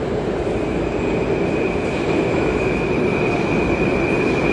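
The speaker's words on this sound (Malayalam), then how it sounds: "ഇതാ ട്രെയിൻ വന്നുകൊണ്ടിരിക്കുന്നു." A Moscow metro train pulls into a station with a loud, continuous rumble of wheels on rails and a thin, sustained squeal running over it, with no talking.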